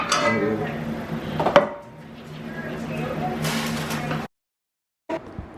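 Pieces of a new pots and pans set being put together, with metal clinks and clanks of cookware, a sharp knock midway and brief handling noise near the end, under a steady background hum.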